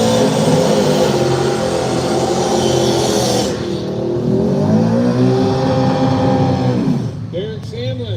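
Dodge Challenger drag car at a live arm-drop drag racing event, its engine roaring loud and steady, pitch sweeping up as it launches, with an announcer talking over it.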